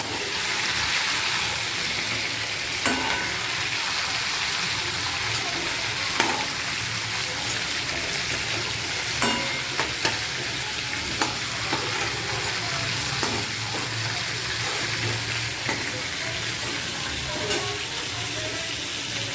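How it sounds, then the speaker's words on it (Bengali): Chicken pieces frying in a pan crackle in a dense, steady sizzle close by, punctuated by intermittent spatula scrapes and clinks as they are turned, with no one talking. "বেশি ভাজবো না, তাহলে শক্ত হয়ে যাবে। হালকা করে নেড়ে চেড়ে তুলে রাখছি।"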